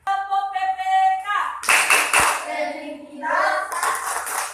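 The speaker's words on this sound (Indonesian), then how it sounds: "mari kita lakukan dulu tepuk PPK ya" A school class chants and claps the PPK clapping routine, rhythmic bursts of many hands joined with voices chanting in unison, loud and close in a classroom.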